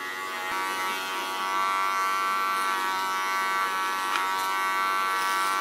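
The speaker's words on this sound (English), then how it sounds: "use my clipper as a clipper comb, clean the neckline of all the hairs we don't need" An electric hair clipper trims the neckline of a fine-haired platinum pixie cut, a steady close-up buzz running throughout with slight shifts in pitch as the blades press and glide over skin.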